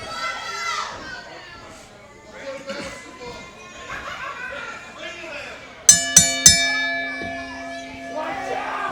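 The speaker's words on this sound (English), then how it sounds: "And as the bell sounds, our next match is underway." A wrestling match bell rings three quick, loud clangs at a New South Southern Hostility 2023 show, following a stretch of crowd noise and a commentator's voice, then the ringing decays under the resumed talk.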